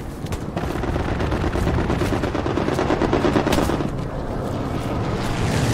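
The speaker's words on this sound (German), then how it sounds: "Rechts ist irgendwo ein MG42." Close MG42 machine gun fire in the WWII shooter Hell Let Loose, a rapid continuous ripping stream of shots running almost the whole time, loud and dense, briefly easing near the end.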